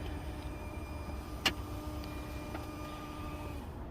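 A Tesla Model X P90D's power seat travels back with a faint, steady electric motor whine in a quiet cabin, broken by a single sharp click partway through.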